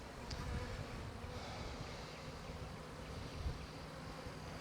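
Bees hum in a steady low drone as they are worked without protective gear, a continuous close buzz with no talking over it.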